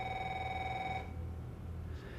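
Telephone ringing in a French action film, a bright electronic trill that sounds for about a second and then stops, leaving a low background hum.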